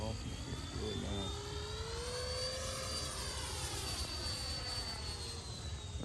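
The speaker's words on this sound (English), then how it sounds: "One of the better sounding jets, especially to have just that 9-blade in there." Freewing T-45 Goshawk 90mm electric ducted-fan jet with a 9-blade fan flying past, a steady whining hiss with a high tone rising and falling as it passes, alongside voices.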